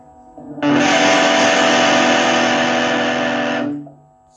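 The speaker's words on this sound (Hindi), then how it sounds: "Nice and clean distortion." Electric guitar through a Stranger C15 amplifier set to light, clean distortion with the tone knob at zero: one chord struck and held for about three seconds, buzzing evenly, then quickly fading out.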